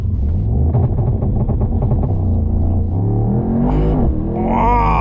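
A 2024 Mercedes SL63 AMG in race mode pulls hard in second gear, its engine a loud, close rising roar that climbs steadily, then drops sharply at the shift as the revs fall away.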